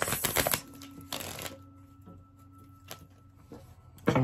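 Tarot cards shuffled by hand during a reading: a dense burst of riffling at the start, a second burst midway, then a few soft taps and a final riffle at the end, close and fairly quiet, with no talking.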